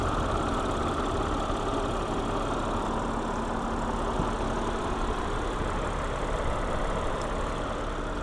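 An Audi A7's V6 engine idles with a steady, even low rumble and a faint mechanical ticking, heard close and continuous with no voices.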